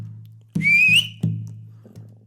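A sharp whistle rising and wavering for about half a second, loud and alone over a low steady hum, from a figure surfacing in ocean surf.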